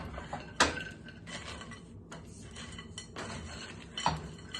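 Gluten-free stuffing being mixed in a bowl, with a steady scraping clatter of a utensil against the dish and two sharper clinks standing out.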